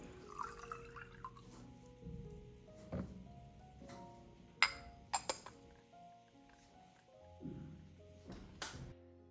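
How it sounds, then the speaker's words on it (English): Diluted fertilizer solution trickles and drips from a watering can around the base of garden plants, a quiet run of liquid drips and light clinks with a few sharper splashes, close and alone. "I pour the diluted fertilizer solution into a watering can, then water it directly around the base of each plant in the garden."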